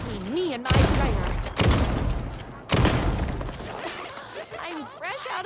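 Three loud, sharp gunshot bursts ring out in the video game Alan Wake 2's Night Springs, spaced about a second apart, each trailing off, with a voice speaking around them.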